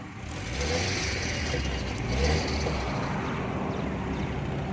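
A Toyota Corolla 1300cc 12-valve petrol engine revs up from idle, a steady mid-pitched drone that rises and holds at moderate loudness, close by with no talk.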